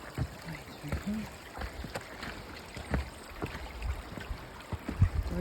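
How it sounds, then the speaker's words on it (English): A small babbling brook on the Avalanche Lake Trail in Glacier National Park flows with a soft, continuous trickle and gurgle, heard fairly near alongside faint footsteps and handling noise. "And now we find this babbling little brook."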